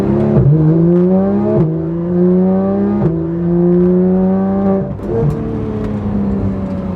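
A tuned Porsche 911 GT3 RS engine screams loudly from inside the cockpit, climbing steeply in pitch through several gears, with sharp upshifts cutting each rising run at roughly one-and-a-half-second intervals.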